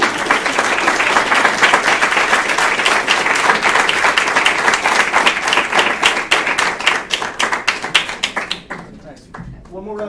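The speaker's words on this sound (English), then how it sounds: "One more round of applause for all of our students." An audience applauds after a student presentation, with dense, lively clapping that holds steady, then thins out and fades near the end as a voice begins speaking.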